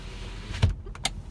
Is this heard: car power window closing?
yes